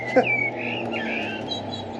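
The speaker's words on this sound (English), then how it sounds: "you can hear that blackbird giving it some pasty" A blackbird sings in the background of an allotment garden, its faint fluting phrases running over a steady outdoor hum with no talk.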